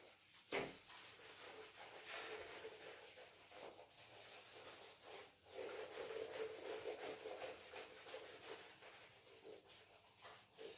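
A duster rubbing writing off a classroom board during a physics lesson: continuous scratchy wiping strokes in steady back-and-forth surges, fairly faint and close, with no speech.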